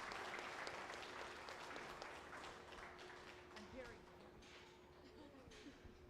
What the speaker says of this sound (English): let's give these kids a huge round of applause